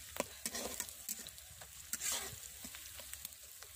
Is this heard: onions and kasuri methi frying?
yes